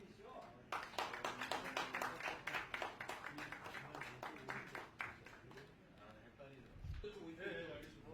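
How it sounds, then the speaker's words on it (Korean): An audience at a Korean government high-level party-policy council meeting breaks into a burst of clapping, moderately loud and lasting several seconds, with talk mixed in. "박수 한번 쳐주시죠."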